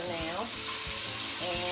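A steak sizzles steadily in a frying pan as it browns, a close, constant crackling fry with faint background sounds and a little speech.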